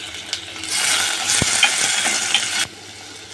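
Garlic, onion and half a tomato frying together in a pan, a steady broadband sizzle swelling under a few light stirring clicks, then dropping back to a softer hiss near the end.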